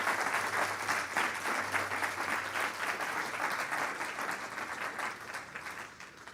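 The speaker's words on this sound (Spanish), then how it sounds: "Demos un fuerte aplauso de victoria al Señor" Sustained applause from a large church congregation, steady dense clapping throughout that thins slightly toward the end.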